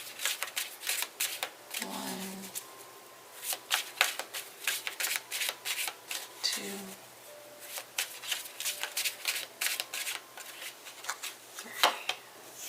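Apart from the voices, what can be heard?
shuffling tarot cards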